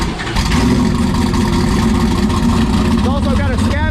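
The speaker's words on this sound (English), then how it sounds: "Now this is cold start E85, first crank in the morning." A turbocharged Camaro running E85 fuel cold-starts for its first crank of the morning, bursting abruptly into a loud, close, rough steady roar that holds throughout, with a brief voice near the end.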